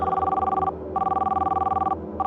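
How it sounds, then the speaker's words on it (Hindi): An outgoing phone call rings unanswered, its tone repeating in steady electronic bursts with brief gaps. It is clear and moderately loud, with no voices. "उसने जल्दी से अपना फोन निकाला और बॉस को कॉल लगाया।"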